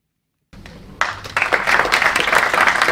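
Audience applause at a maritime finance colloquium, starting from silence with a few claps and swelling quickly into dense, loud, sustained clapping from a large room.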